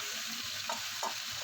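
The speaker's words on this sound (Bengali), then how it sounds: "এখন মাংসের জন্য আলুগুলো ভেজে দেওয়া হবে" Potatoes for a meat curry frying in hot oil, a steady close sizzle with a few soft stirring scrapes and spoon clinks at intervals, no talk.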